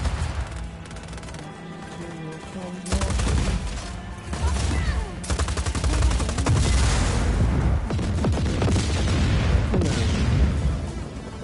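Gunfire and explosive bursts in the action video game Just Cause, loud and dense from about three seconds on, with rapid volleys and booms over game music and occasional speech.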